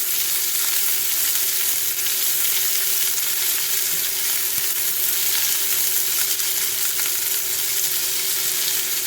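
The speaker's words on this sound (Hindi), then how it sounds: "अब इसमें मैं डालेगी करी पत्ता, और इसमें मैं डालेगी प्याज। इसे मैं सिर्फ सॉफ्ट करेगी।" Curry leaves and onion frying in a pan for peanut poha, a loud, dense, unbroken sizzle and crackle that holds steady throughout with no voices.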